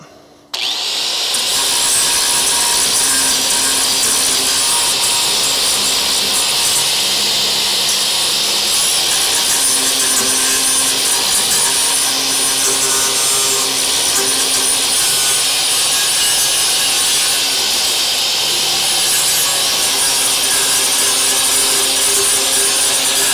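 An angle grinder fitted with a flap disc grinds continuously for over twenty seconds after a brief spin-up, a loud, harsh, steady high-pitched whine with a rough edge, close and without speech.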